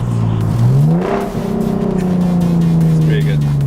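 A loud car engine revs up sharply, then holds a high droning pitch with a brief dip, close and powerful.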